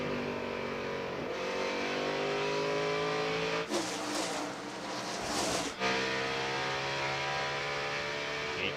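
NASCAR stock cars roar around Richmond Raceway during a 1998 race, a steady loud engine drone from a packed field with a brief surge as cars sweep past, no voices over it.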